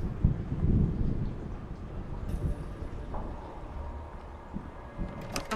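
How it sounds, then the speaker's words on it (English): A thunderstorm in QUOD, a 1930s prison game, rolls heavily at first then settles into a low continuous rumble of thunder and rain, with a few faint clicks and a brief tone near the end. "Thunderstorm."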